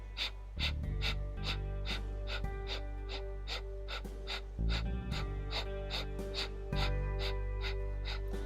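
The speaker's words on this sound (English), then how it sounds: "you can stay and maybe even take a little breath of fire" Rapid rhythmic breath-of-fire yoga breathing, sharp forceful exhales pulsing about twice per second, close over a steady background of soft music.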